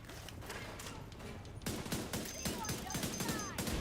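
Gunfire from a first-person shooter game on a hardcore realism campaign comes as quiet, rapid bursts of shots and scattered impacts, with a person talking now and then.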